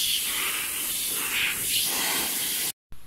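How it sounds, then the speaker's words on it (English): A continuous close-up hiss of a dish soap spray nozzle in a barn, a few seconds long, with a brief silent break just before a final short burst. "I'm going to spray a pretty liberal amount of this dish soap in there"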